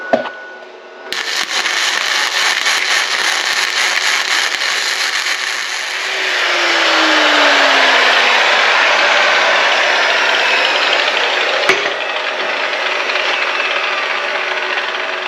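A HZXVOGEN 130A MIG welder lays a bead on 1/8 inch steel angle, a loud continuous buzzing crackle that starts abruptly, holds steady for the whole stretch and shifts slightly in tone partway through.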